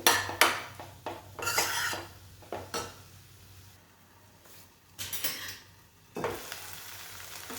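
Spoon scraping and clattering against a pan in bursts as tomato sauce is mixed in, with quiet pauses between, over a faint low hum.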